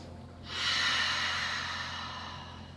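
A slow, deep breath drawn in then let out during a hip-opening yoga pose, a soft broad airy rush that swells after a brief quiet start and sustains steadily, close and alone.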